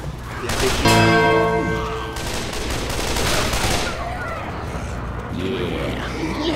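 Rapid gunfire in the zombie shooter Left 4 Dead 2, a loud close burst of overlapping shots and a machine-gun rattle, then a sustained noisy roar of combat that fades back to background noise.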